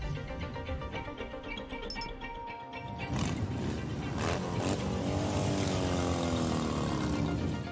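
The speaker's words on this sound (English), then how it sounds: "Engines starting, motors revving, and wheels vibrating along the pavement of the Pentagon parking lot" Motorcycles start and rev in the Pentagon parking lot as bikers gather for a memorial ride. A steady tonal hum gives way to a rough, loud, sustained engine roar with rising revs, nearby and continuous.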